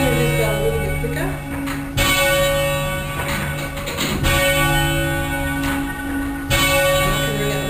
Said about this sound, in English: So I can move this bell a little bit quicker.